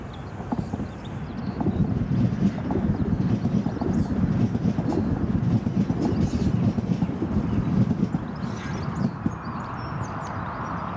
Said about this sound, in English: Ryanair, now taxiing